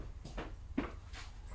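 A dog whimpers in a few faint, short, high whines spread over a second and a half indoors, close but quiet, with no talk.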